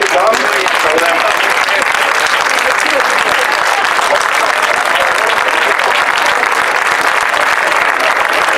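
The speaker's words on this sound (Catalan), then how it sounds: "Donem-li un aplaudiment, tothom, i saludem-la." Dense, continuous applause from a crowd at the opening of a CDR gathering in Tarragona, loud and sustained for the whole stretch with no break.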